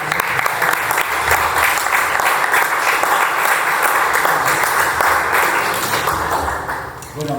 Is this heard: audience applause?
yes